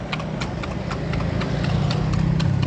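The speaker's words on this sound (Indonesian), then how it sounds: "Kita naik kuda." A horse's hooves clip-clop in a steady, close rhythm as it pulls a bendi cart through Padang, with a constant rumble of traffic and street noise underneath.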